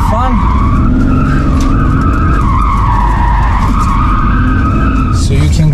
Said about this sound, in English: Let's do some skids to have fun.